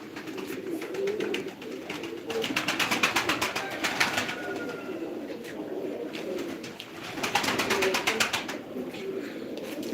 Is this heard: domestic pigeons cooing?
yes